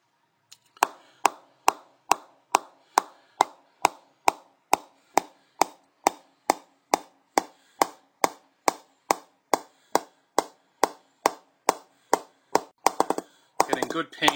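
A cricket bat is tapped up with a mallet, about thirty evenly spaced sharp wooden knocks ringing close and clear, with a quicker flurry of taps at the end.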